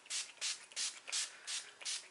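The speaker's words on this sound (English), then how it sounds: "I'm going to be spraying my face" Setting spray misted onto a face during a makeup routine, six short airy hissing bursts in a steady rhythm, close and clear with no talking.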